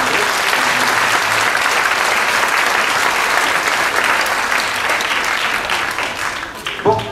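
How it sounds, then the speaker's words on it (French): Audience applause at a concert in Saint-Germain, a dense, steady clapping from a crowd lasting throughout, loud and close, tapering slightly near the end. "On peut applaudir au sein de la municipalité."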